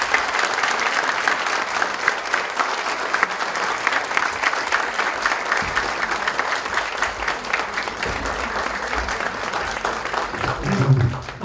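Sustained applause from an audience after an economist and federal deputy's lecture at an economics award ceremony, dense steady clapping throughout with a livelier swell near the end.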